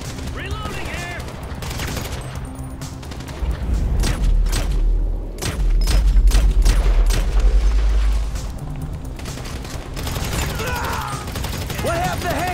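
Crossfire in GTA V during the mission The Wrap Up: dense, overlapping gunshots and rattling bursts with booming impacts, loud and sustained across most of the stretch, with shouted voices mixed in.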